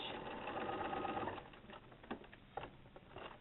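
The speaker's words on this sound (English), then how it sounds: "So I'm going to sew straight down here. Don't forget to backstitch." A sewing machine stitching a straight seam with a backstitch, running steadily at first and then in shorter bursts, with pigeons cooing nearby.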